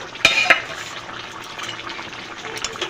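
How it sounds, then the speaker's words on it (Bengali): Beetroot and carrot vegetable curry bubbles in an uncovered pan, two sharp lid or utensil knocks at the start, then a soft continuous simmering hiss with faint bubbling pops, no voices. "তরকারিটা ফুটতে শুরু করেছে, সবজিও মোটামুটি সব সেদ্ধ হয়ে গেছে"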